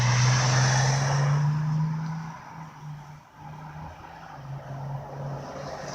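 Fire engine with a Detroit Diesel engine, a strong low engine rumble at first that fades and dips midway, then returns more faintly with a steady drone, heard from a moderate distance.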